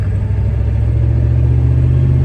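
Diesel pickup truck with propane injection accelerating hard while towing, heard from inside as a loud, deep, steady engine drone with heavy low rumble.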